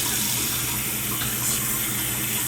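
Tap water streams steadily into a sink as fresh collard greens are rinsed, a constant close hiss and splash with no pauses or talk.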